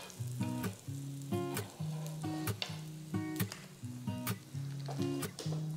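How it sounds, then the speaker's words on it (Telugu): Dosa sizzles in plenty of butter on a hot pan, a steady frying hiss running throughout beneath a rhythmic musical melody. "దోశ ఒకవైపు వేగిన తర్వాత 2 వైపుకి తిప్పి వేయించాలి"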